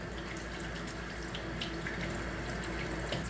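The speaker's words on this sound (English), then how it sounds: "Let me wash my hands off." Tap water runs steadily into a bathroom or kitchen sink while someone washes their hands. The splashing is a constant close hiss with small shifts in the flow and no talking.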